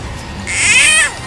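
A single loud, shrill cry comes from beneath a house, taken for a frog being eaten, and it swells and bends like a wail. It rises out of a quiet murmur and fades after about half a second.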